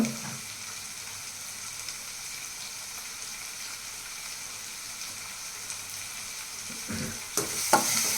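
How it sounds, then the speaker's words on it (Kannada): Onion and tomato frying in a pan, a soft steady sizzle for most of the stretch, then a few louder spatula knocks and scrapes toward the end, nearby with no voices. "ಈರುಳ್ಳಿ ಟೊಮೊಟೊ ಎರಡೂ ಚೆನ್ನಾಗಿ ಫ್ರೈ ಆಗುತ್ತೆ"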